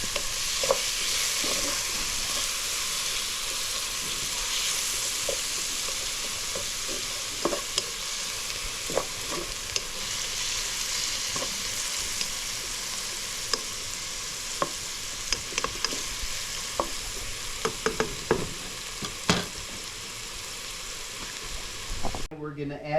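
Pinakbet vegetables being stirred with fermented shrimp paste (bagoong) in a pan, a low steady sizzle under repeated scraping and clinking of a utensil, busier toward the end, with a voice faintly present.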